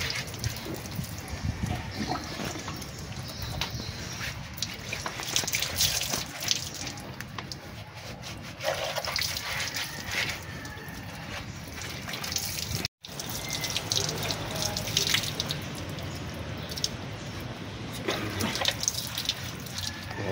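Water from a tap or hose splashes steadily onto removed car brake parts, brake shoes and brake cylinder, a continuous rushing wash for about twenty seconds with a brief break midway.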